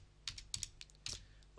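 Keys clatter on a computer keyboard while a search is entered into retail point-of-sale software, a quick uneven burst of several close, light clicks with no voices.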